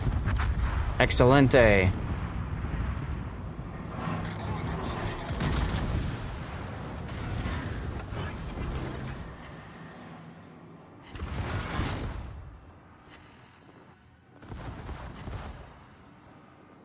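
Heavy naval guns boom and shells strike in a competitive warship battle game during a playoff match, with a cluster of loud blasts early on and scattered impacts later, all under steady spoken commentary.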